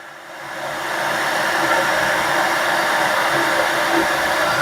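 A hair dryer blows steadily and loudly on a collectible figure, a continuous whooshing hum that ramps up in the first second and holds constant.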